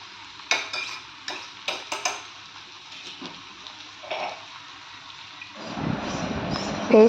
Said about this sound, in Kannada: ಪೇಸ್ಟ್ ಹಾಕಿದ್ಮೇಲೆ ಚೆನ್ನಾಗಿ ಮಿಕ್ಸ್ ಮಾಡಿದ್ದೀನಿ